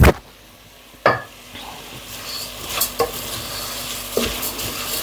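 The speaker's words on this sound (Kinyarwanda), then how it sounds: "Urabona ko ndavanga byose neza" Food being stirred in a cooking pot, likely a seasoned rice dish with salt and mixed spices, giving scattered scraping and clinking strokes over a steady soft sizzle, with no one speaking.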